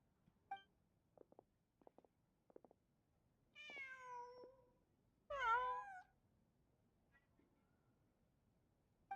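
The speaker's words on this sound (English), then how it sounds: "Just a cat." Cat meowing in the video game Genshin Impact, two drawn-out meows close together following a few faint clicks, otherwise quiet.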